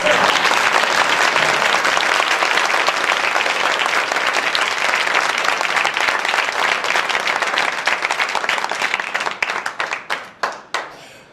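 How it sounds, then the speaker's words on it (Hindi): An audience at an Amrit Mahotsav celebration applauds loudly and steadily. The close, dense clapping thins toward the end into a few scattered, separate claps. "कमजोर तालियों के बीच कविता पाठ करना मेरी आदत में नहीं है"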